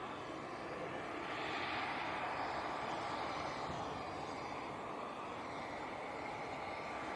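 A steady, broadband engine roar from an EasyJet airliner on long final into Leeds Bradford Airport, heard from the ground as a sustained, fairly distant rumble with no talk.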